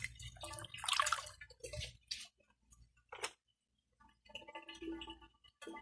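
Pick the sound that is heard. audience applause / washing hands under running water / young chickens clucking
washing hands under running water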